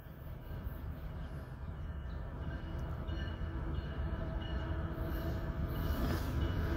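Southbound CSX autorack freight train passing on track two, a steady rumbling roll of wheels on rails that grows slightly louder, with faint metallic squeal, no talk over it.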